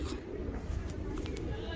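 Fancy pigeons coo softly in a loft or coop, with low murmuring calls faintly audible beneath someone talking nearby.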